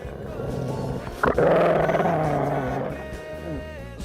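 A dog growls low and steadily for a few seconds, close by, with a sharp snap near the start.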